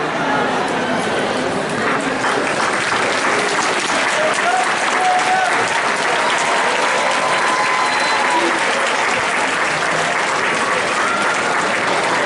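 Sustained, loud applause from a large crowd at a university graduation ceremony, dense clapping continuing steadily throughout without pause.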